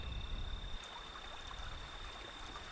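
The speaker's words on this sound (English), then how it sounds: "That is the trickling of water, the very sound of life itself." Water trickles faintly through a desert, a soft, steady burble heard alone at low level with a thin constant high tone running beneath it.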